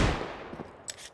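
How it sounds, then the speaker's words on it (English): A Desert Eagle pistol shot in a Counter-Strike match at IEM Dallas 2023 on the Ancient map: a sharp, punchy crack at the start that decays quickly, followed by a few faint distant clicks and game sounds. "Backside arriving with a deagle headshot"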